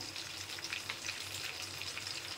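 Prawns fry in a pan for prawn bhuna curry, giving a dense, continuous sizzle with soft crackles, close and steady throughout, with no voices.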